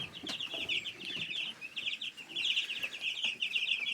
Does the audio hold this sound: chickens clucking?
yes